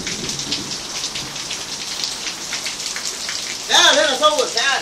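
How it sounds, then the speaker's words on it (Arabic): Heavy rain pours steadily on a house in Saudi Arabia, a dense continuous hiss of water throughout; near the end a voice speaks over the downpour. "الحين مطر كأني في الشارع"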